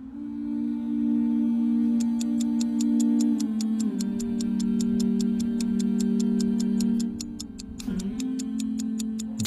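A clock ticks at night in a steady, sharp, evenly spaced rhythm, repeating many times over a low sustained hum that shifts in pitch.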